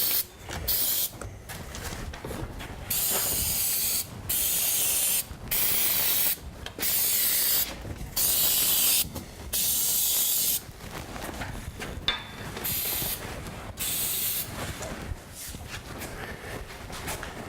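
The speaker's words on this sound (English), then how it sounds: "as you can hear with that belt drive opener, it's very quiet, especially with those nylon rollers" A belt drive garage door opener runs with the door on nylon rollers, new drums, torsion bar and heavy duty springs: a soft, steady hiss and rumble broken by brief pauses and a faint mechanical tick.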